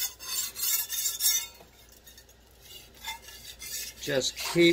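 A dull knife is drawn up and down a cheap Cali Valley whetstone, giving a steady series of gritty rasping strokes, fairly close and moderately loud, with no voices.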